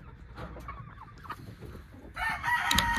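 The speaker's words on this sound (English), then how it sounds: "Look how good and healthy these chickens are." Chickens cluck softly nearby, then a rooster lets out a loud crow at the end.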